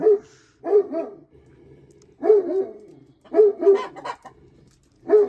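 A dog barks repeatedly in short bursts of two or three, fairly close, with quiet gaps between the volleys.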